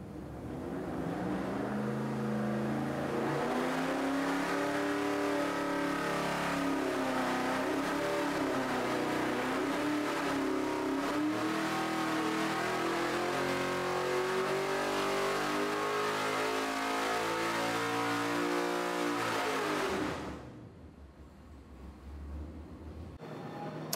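Car engine on a dynamometer running X98 ethanol fuel, revving loud and steady under wide-open load for about twenty seconds with rising pitch sweeps, then cutting off abruptly to a low idle rumble.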